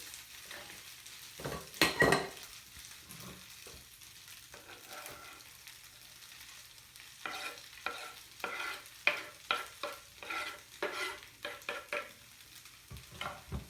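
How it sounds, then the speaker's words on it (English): Shrimp and leeks for Japanese ebi chili stir-fried in a pan, with a low steady sizzle under repeated scraping stirs and clacks of a utensil, sharper bursts near the start and quickening toward the end. "we are going to cook about minute to 2 minutes until like it's going to be cooked through, and we are going to add leeks too"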